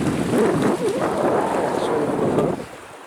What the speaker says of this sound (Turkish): rüzgar arttı. Doğal olarak dalgalar da artacak.